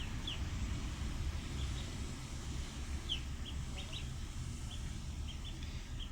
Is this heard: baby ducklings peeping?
yes